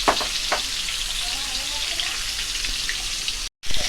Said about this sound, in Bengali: এবার মাছগুলো ভাজা হতে থাক